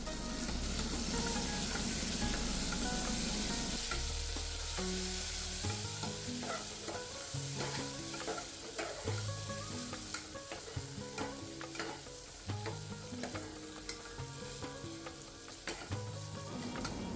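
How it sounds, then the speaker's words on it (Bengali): Tomatoes and ginger fry in a pan with a loud continuous sizzle, broken by rhythmic stirring scrapes and clatters of a spoon, with no talking. "আদাটা ভাজা হয়ে এলে এবার টমেটো দিয়ে দিলাম।"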